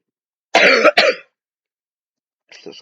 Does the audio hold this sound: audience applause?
no